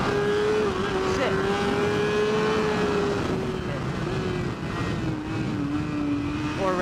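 A superbike engine holds a high, steady revving whine during a race, droning continuously at close range and shifting pitch slightly as the throttle changes.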